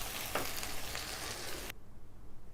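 Beef keema is stirred in a hot karahi pan, giving a soft sizzle with scraping stir strokes that ends abruptly, followed by faint, quiet cooking noise.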